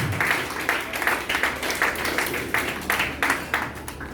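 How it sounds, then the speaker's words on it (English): A debate audience claps together in a steady, even rhythm of sharp hand claps that carries on for several seconds in a hall, with no talk over it. "You can clap"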